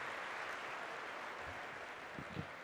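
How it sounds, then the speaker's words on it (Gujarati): An audience at a spiritual lecture gives a faint, distant round of applause to welcome a speaker, a soft, even patter of many hands lasting a couple of seconds. "તાળીઓના નાદથી આપણે એમને વધાવીએ છીએ."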